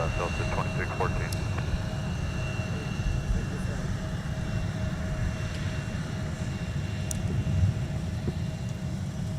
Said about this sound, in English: the aircraft that will be taking folks to Iceland tonight for Delta, that 757